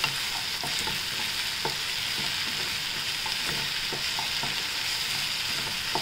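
Cauliflower and peas being stirred and sautéed in a pan, with a steady close sizzle and frying hiss throughout and occasional scraping stir clicks, no voices.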